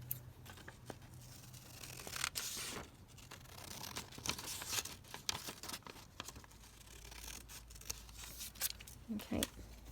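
Scissors snip and slice through a sheet of book page for a fabric folio, a run of close, irregular crisp cuts and paper rustles with faint talk in between.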